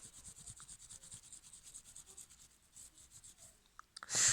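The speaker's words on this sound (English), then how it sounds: "just continue just rubbing until there's literally nothing left." Steady rhythmic rubbing scrapes at a decal on a Hot Wheels '15 Dodge Charger SRT die-cast toy car, close and repetitive strokes, ending in a louder burst of handling noise.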